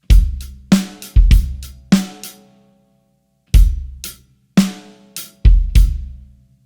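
Drum kit beat in short staccato hits: a bass drum kick lands between crisp hi-hat strikes, several distinct bursts separated by brief gaps and a longer pause, played alone with no talking.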